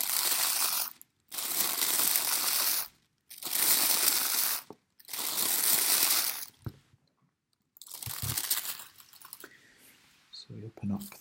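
Wax paper being crinkled and handled up close in four long, loud bursts of crackling separated by short silences, followed by quieter rustling and a few soft knocks.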